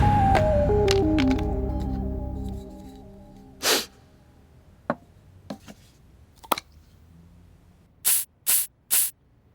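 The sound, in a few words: perfume spray being sprayed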